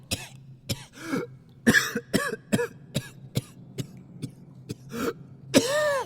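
A series of harsh, repeated coughs and throat-clearing bursts, close and irregular, with short pauses between the fits.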